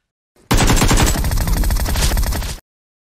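Rapid automatic gunfire rattles in a close-quarters fight in Peacekeeper Elite, a loud, dense burst of about two seconds starting abruptly and cutting off sharply, with no talk.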